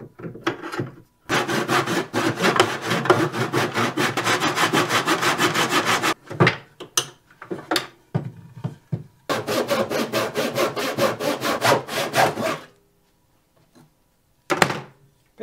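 A handheld saw cuts an angle through wood for a vintage camper wall, with fast, even back-and-forth strokes in two long close bursts separated by a pause and a few scattered knocks.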